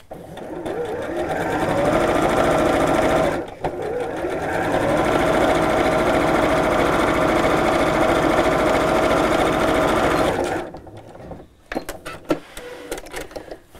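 A sewing machine runs steadily, stitching a seam on a child's dress with shirring elastic, with one brief pause near the start; it stops around ten seconds, followed by a few faint clicks and handling noises.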